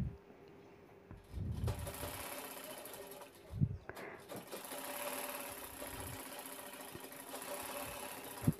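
A domestic sewing machine stitches a belt onto a handbag at home, running in uneven bursts of fast whirring and clattering with short pauses and soft handling noises between runs.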